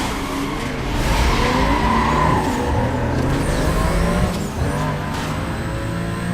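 Race cars roar through a drag race in Need for Speed Most Wanted, with a loud, continuous engine drone, rising revs, gear shifts and squealing, skidding tires throughout.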